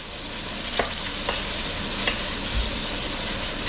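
Onions and peppers frying in a pan give a soft, steady sizzle with a few light stirring scrapes and taps, close and fairly quiet.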